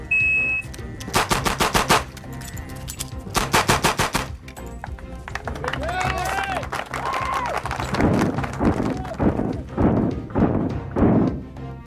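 Rapid gunshots ring out in a 12-shot reload shooting record attempt: tight bursts of sharp cracks, then a brief gap and a further flurry of shots, with a voice talking over the later part.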